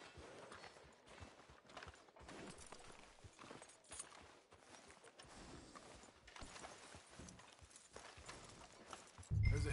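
A horse's hooves clip-clop at a walking pace in Red Dead Redemption 2, an irregular stream of soft thuds over a quiet background, ending in a louder low bump.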